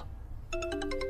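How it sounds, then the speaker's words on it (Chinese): A short electronic phone ringtone starts halfway through and sounds several quick, repeating tonal beeps, moderately loud after near-silence in a fantasy drama scene. "洛先生，您的电话。"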